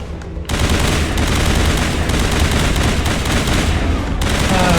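Gunfire in the Mass Effect video game comes as a loud, dense, continuous burst of rapid shots that kicks in suddenly and keeps going, near and overwhelming, with nothing else audible over it.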